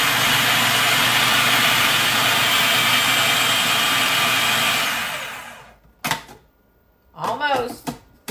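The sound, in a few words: food processor blending cottage cheese batter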